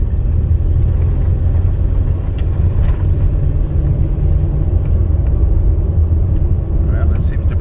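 From inside a 2004 Toyota Sienna minivan, the drivetrain rumbles steadily as it accelerates hard in passing gear, a continuous loud low road and engine drone with faint rattles and a short voice near the end.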